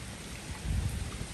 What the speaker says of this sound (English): waterfall on the side of the building.